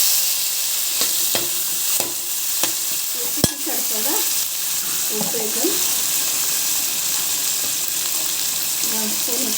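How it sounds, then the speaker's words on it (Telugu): Tomatoes fry in a pan for a Telugu gongura egg curry, with a steady background sizzle and a few sharp stirring clicks and scrapes of a spoon against the pan. "ఇప్పుడు వేయించుకుంటాం టమాటో ఉంది కదా ఒక ఫోర్ టమాటోస్"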